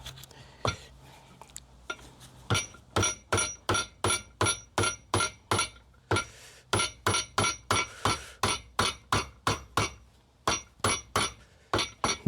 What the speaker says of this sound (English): I guess we just have to hammer this down.